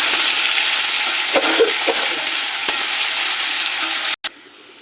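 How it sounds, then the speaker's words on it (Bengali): Chopped potatoes fry in hot oil in a wok after a tempering of bay leaf and cumin. A steady, close, bright sizzle with occasional crackles runs throughout and cuts off abruptly near the end. "কুচি করে রাখা আলু ভেজে নেব"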